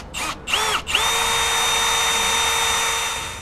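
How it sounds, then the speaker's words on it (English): A power drill with a 25/64-inch bit bores into a steel tire carrier on a Lexus GX470, starting with a few short bursts then settling into a loud, steady whine that holds for several seconds. "I'm gonna put our drill bit up to that."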